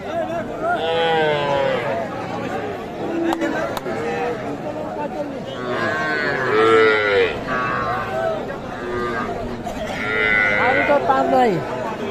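Calves moo repeatedly amid a busy crowd at a cattle market, their drawn-out calls rising over steady chatter and background noise.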